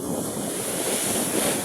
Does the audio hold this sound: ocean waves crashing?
yes